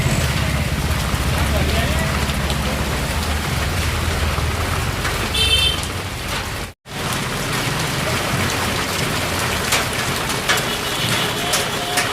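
Heavy monsoon rain pours down on a town in Gujarat with a dense, loud, continuous hiss and drumming, broken only by a brief cut partway through.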